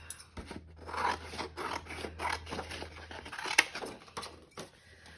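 Scissors snip through a piece of inexpensive cardstock to cut it in half, a close series of crisp cuts and rustles with no one talking.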